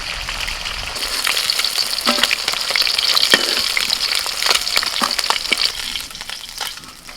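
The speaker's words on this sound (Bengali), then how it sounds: "রুই মাছটা ভাজা হয়ে গেছে" Pieces of rohu fish fry in hot oil with a loud, continuous crackling sizzle and sharp pops throughout, heard up close with no one speaking.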